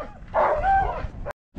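Sled dogs in Norway, gathered before a sledding run, giving a close, loud burst of excited barking and yipping that cuts off abruptly and then starts again.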